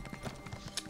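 Quick horse hoofbeats clip-clop in an even rhythm in The Elder Scrolls Online, close and moderately loud, over a faint background.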